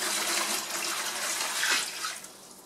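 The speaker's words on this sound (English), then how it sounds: "Add the water" Non-chlorinated, room-temperature water pours steadily into a worm bin in a close, rushing stream, then tapers off toward the end.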